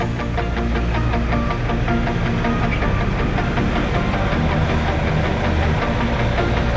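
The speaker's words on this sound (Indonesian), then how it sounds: "kita lakukan penghidupan mesin untuk melarutkan engine flush yang kita tuang tadi" A car engine idles steadily after engine flush has been poured into the oil, a continuous low rumble with a faint rhythmic knock, close and unchanging throughout with no talk.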